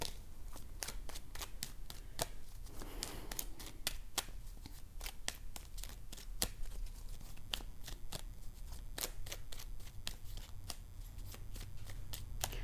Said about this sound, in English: I'm going to pull one more card for that.